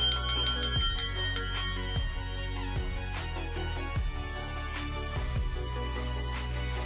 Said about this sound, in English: let me go on ahead and ring this bell and clear any kind of negativity